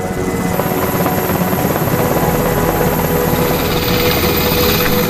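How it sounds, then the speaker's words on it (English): A Seahawk helicopter drones loudly and steadily, its rotor throbbing close by without a break, and no voices over it. "soon board an HS-60 Seahawk helicopter and leave Nimitz."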